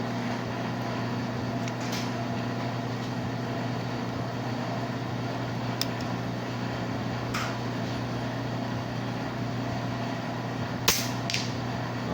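An upgraded PCP toy air rifle fires outdoors at a 60-meter target, letting off a few sharp isolated cracks spread across the stretch over a steady droning background.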